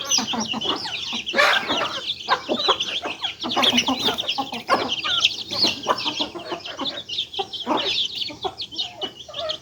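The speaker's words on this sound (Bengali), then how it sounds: "মুরগিদেরকে খাবার দিতেছি।" A flock of chickens, some 40 to 50 birds, cluck and chatter continuously and close by while being fed on a rainy day, with overlapping calls rising and falling throughout.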